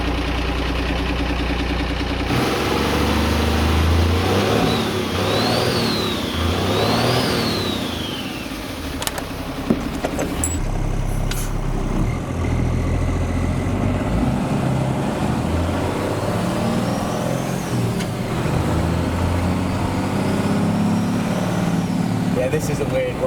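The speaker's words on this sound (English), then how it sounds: "still has its turbo diesel that we're going to hear start up and then go out for a little spin." A 500hp Chevy turbo diesel truck cranks, settles into a loud idle and pulls away, its engine rising and falling steadily as it drives, with people talking over it throughout.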